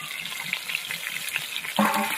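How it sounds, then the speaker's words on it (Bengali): Aar fish frying in hot oil, giving a dense, crackling sizzle with spattering pops, close and steady, swelling louder near the end with no talking. "এই মাছ সবসময় ঢাকা দিয়ে ভাজতে হয় তা না হলে কিন্তু খুব ফাটে"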